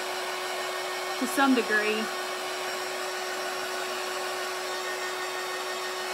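Small inexpensive heat gun blowing steadily on a clay-covered jar lid, a constant loud airy whir throughout, with a person speaking briefly over it near the start.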